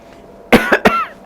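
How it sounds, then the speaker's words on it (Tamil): A person demonstrates coughing into the elbow with three quick, close, loud coughs in a burst, then silence. "ஸோ உங்கள் மேலேயே நீங்கள் இருமிக்கிறீங்க"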